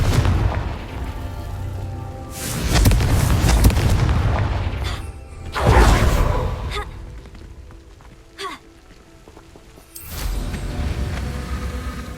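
A Confringo fire spell from the game Hogwarts Legacy sets off several loud, booming blasts, each with a deep rumbling tail, spaced a few seconds apart across the span.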